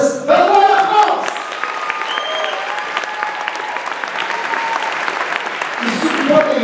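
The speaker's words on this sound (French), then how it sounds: "Donc je veux qu'on applaudisse Benoît La France!" Audience applause at a DJ party during the Fantasia 2013 festival, a dense burst of clapping that swells at the start, holds steadily, then picks up again near the end, with a few voices underneath.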